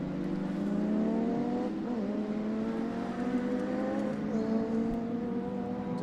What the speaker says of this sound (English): There's going to be a green flag. There is a green flag. Look at this. Gordon Brown is gone